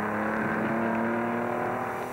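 An Austin-Healey rally car drives with a steady, loud engine drone and a sustained tone, continuous throughout without speech.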